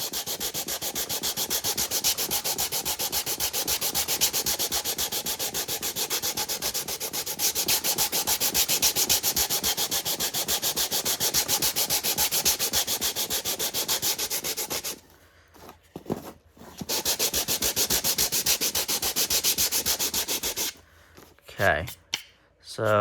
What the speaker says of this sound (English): you can be a little more bold with your sanding here.